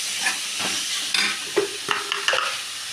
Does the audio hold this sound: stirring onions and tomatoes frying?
yes